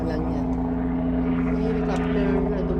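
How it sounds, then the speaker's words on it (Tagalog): A helicopter passes overhead beside a small balcony garden, its steady low rotor drone holding loud and even throughout, with no speech over it. "Ayun, may helicopter na dumadaan."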